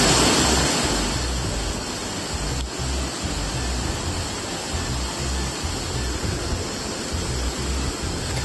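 A river current in the Suriname Amazon rainforest rushes toward a waterfall as a steady, loud, broadband roar with no talking.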